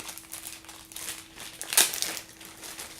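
Packing tape is pulled off a PlayStation Classic box with soft crinkling rustles and one sharp, loud rip near the middle, close by with no talk.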